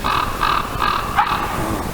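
Large ravens or crows caw in a run of four loud, harsh calls spaced evenly over two seconds, close by over steady background noise.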